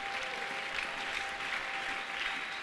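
A church congregation applauds steadily throughout, a dense, even wash of clapping at moderate distance with no talk over it.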